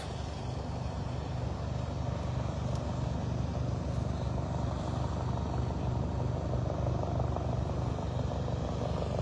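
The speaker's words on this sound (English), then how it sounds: "They crank up their choppers and then they have to heat up their engines a bit before they lift off." A firefighting helicopter's engine warms up before lift-off during wildfires in northeast British Columbia, idling with a steady low throbbing hum, continuous and fairly close, with no one speaking.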